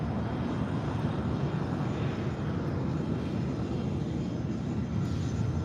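A jet aircraft at LAX, a Learjet arriving from Sacramento, gives off a steady, continuous engine roar that holds level throughout with no talk over it.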